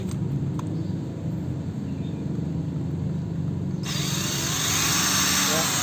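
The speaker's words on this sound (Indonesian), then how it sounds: "kita akan coba gunakan aki ini buat menghidupkan bor." A cordless drill powered by a dry car battery spins up with a steady whirring hum over a low rumbling background, its pitch brightening and growing louder partway through.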